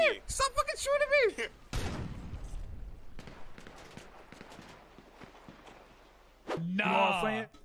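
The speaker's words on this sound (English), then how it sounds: "Stop fucking shooting me!" Bursts of gunfire ring out in a GTA roleplay game on a city street, a scatter of sharp cracks through the middle stretch, with someone shouting loudly at the start and end.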